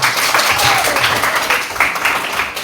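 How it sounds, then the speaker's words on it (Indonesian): Schoolchildren in a classroom applauding together, a loud, dense patter of clapping mixed with children's voices, continuous for a couple of seconds. "tepuk tangan semua"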